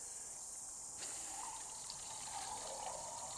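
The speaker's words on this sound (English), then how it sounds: "I put a bit of water in it," Water pours into a container in a small home garden, a steady gushing fill that starts abruptly about a second in and rises slightly in pitch as the vessel fills, close and alone.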